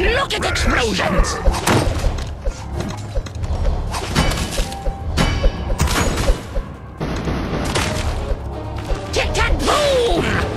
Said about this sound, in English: Look at explosions!